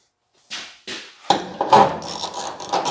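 Socket wrench ratcheting an 11mm nut during door assembly on a 1940 Ford-inspired car build, heard as a few separate close clicking bursts followed by denser ratcheting and rattling with no talk.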